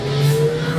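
A car pulls away from a standstill, its engine holding a steady, fairly loud low hum for under a second with no voices.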